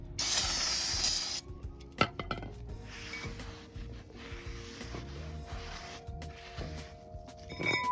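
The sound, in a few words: brake cleaner spraying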